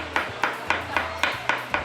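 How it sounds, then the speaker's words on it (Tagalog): A fish pond post being struck to call giant arapaima to feed, seven sharp, evenly spaced knocks that ring close and loud with no voices. "pinupukpok lang nila ang poste ng fish pond"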